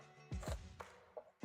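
A knife chopping onions on a cutting board, several sharp separate thunks at uneven intervals, close and fairly quiet with no talking.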